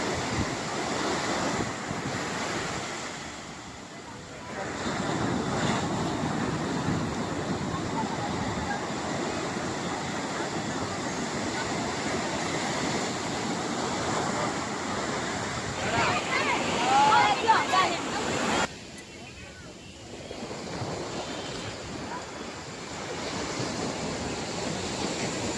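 Sea waves breaking on the beach at Puri, a continuous roaring surf with wind buffeting the microphone, swelling and easing, with a brief lull partway.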